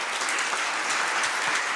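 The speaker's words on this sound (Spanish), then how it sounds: "Le damos un aplauso al Señor." A church congregation applauds together during a worship service: a dense, steady wash of many hands clapping at once, loud and even throughout with no voices over it.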